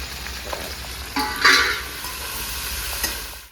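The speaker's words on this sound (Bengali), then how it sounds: "ভেন্ডির সঙ্গে ভাজা হতে একটু সময় লাগবে, ভেন্ডিটাও পেঁয়াজটাও ভাজা হবে।" Okra and thickly cut onion frying in a pan sizzle steadily up close, with a louder burst of hiss and spatter as the pieces are stirred and turned, then a settling crackle that fades out.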